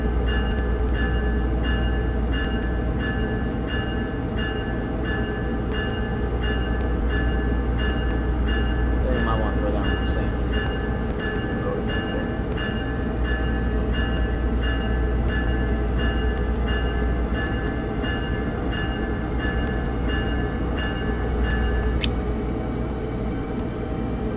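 An electric train in the video game Train Sim Classic rumbles steadily with a low constant drone as it accelerates, electric motor tones whining and shifting, holding at a loud, even level throughout.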